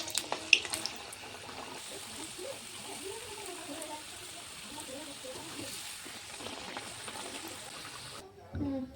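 Padma luchi, flower-shaped Bengali fried bread, fry in hot oil with a steady, bubbling sizzle heard at moderate distance while a person talks over it.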